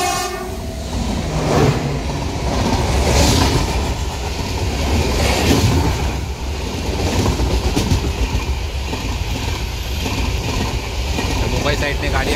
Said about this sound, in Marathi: मुंबई साईडने गाडी आली आहे